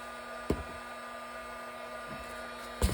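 A heat embossing tool blows a steady, even hot-air hum over embossing powder on a cracked-glass craft piece, with a few soft knocks where it is handled, close and continuous, with no talking.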